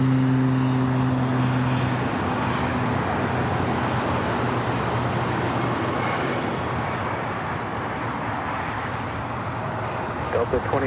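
An airliner taking off from runway 24 right at Los Angeles International Airport: a steady, loud broadband engine roar that holds throughout, with faint tonal hums fading early on.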